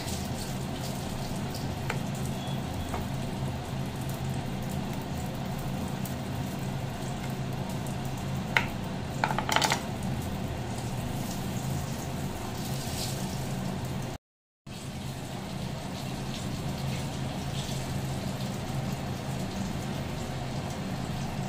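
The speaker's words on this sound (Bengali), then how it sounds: "এবার কড়াই তেল গরম করে বেগুনগুলো একে একে সবগুলো ভাজা করে নিতে হবে ভালো করে" Eggplant slices fry in hot oil in a wok, giving a steady, close sizzle that runs unbroken with a few faint clinks and a brief gap near the middle.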